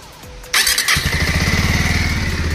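A Bajaj Avenger Street 160 motorcycle cranks on its self-starter with a short whirring, then catches and settles into a loud, close, rapidly pulsing idle.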